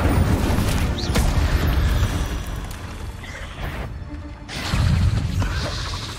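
An Incendio fire spell in Hogwarts Legacy bursts out as loud, rumbling whooshes and crackling blasts in rapid succession amid busy combat, with a brief lull before another booming flare.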